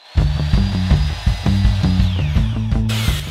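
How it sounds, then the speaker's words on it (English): A power drill bores oversized holes in wooden tabs for a DIY TV lift cabinet, a loud close whirring motor with a rhythmic stuttering pulse as the bit bites, rising briefly in pitch near the end. "I'm drilling some oversized holes so the tabs will be able to pivot around on the screws"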